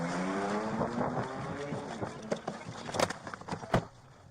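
A car speeds away from police with a rising engine roar that fades, followed by scattered sharp knocks and clatter; muffled voices are faintly audible beneath.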